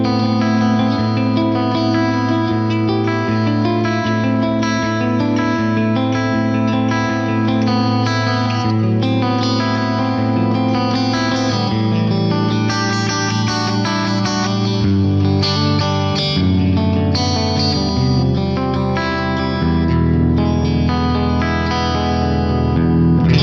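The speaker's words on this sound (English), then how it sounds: "That on its own is a beautiful modulated reverb." Dense, shimmering electric guitar tones wash together with lush reverb, the trails swirling with a wavering chorus modulation, sustained and loud throughout.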